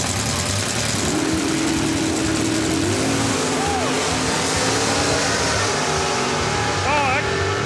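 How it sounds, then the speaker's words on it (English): A drag racing car idles at a drag strip in Montgomery, Alabama, its engine grumbling loud and steady with a few rising revs, while people talk over it. "That's not my stomach grumbling, that's the car."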